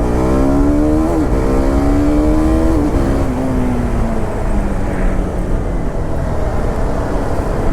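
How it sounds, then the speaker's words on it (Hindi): A 2025 TVS Apache RR310 motorcycle engine fires up and revs, its pitch climbing and dipping through a couple of throttle blips before settling into a steady, loud idle close by. "सो इसको स्टार्ट करते हैं।"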